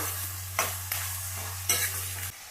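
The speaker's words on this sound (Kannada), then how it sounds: "ಇದನ್ನೆಲ್ಲ ಹಾಕೊಂಡು ಎಣ್ಣೆಯಲ್ಲಿ ಸ್ವಲ್ಪ ಚೆನ್ನಾಗಿ ಬ್ರೌನ್ ಕಲರ್ ಬರೋವರೆಗೂ ಫ್ರೈ ಮಾಡಬೇಕು" Onion and garlic frying in oil in a pan for a North Karnataka egg masala, a steady low hiss with a few brief stirring scrapes, close and alone.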